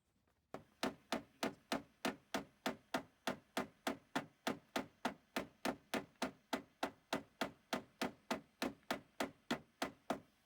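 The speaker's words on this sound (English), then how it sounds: "Probably gonna break my hammer." Steady, rapid hammer taps on a dump truck's metal body, about three per second, each sharp and ringing, continuing evenly for around ten seconds with no talking.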